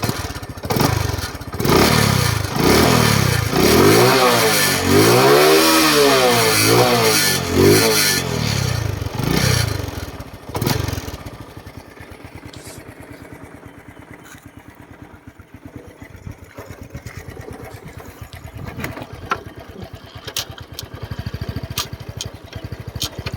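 A Honda Wave 125i motorcycle with a hand start fires up and revs loudly up close in several rising and falling surges for about ten seconds, then settles into a quieter, steady idle.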